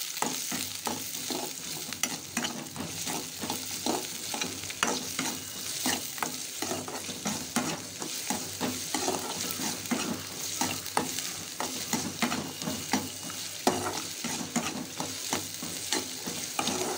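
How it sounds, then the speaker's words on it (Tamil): Grated coconut sautéed in a pan for a raw mango and drumstick puli kulambu, with steady sizzling and repeated scraping stirs close by, no talking. "இதோட கொஞ்சம் தேங்காயும் போட்டுக்கலாங்க. போட்டு நல்லா வதக்கிக்கலாங்க."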